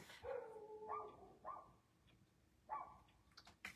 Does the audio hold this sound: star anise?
no